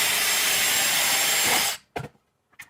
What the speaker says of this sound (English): Then we can drill the next hole.